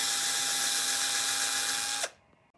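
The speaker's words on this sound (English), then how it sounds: "I'm just gonna drill a little pilot hole with my drill there" A power drill whines steadily at high speed for about two seconds while drilling a pilot hole for an eye hook, then cuts off abruptly and spins down.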